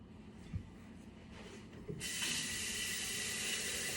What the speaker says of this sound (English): what you do next is you fill this with cold water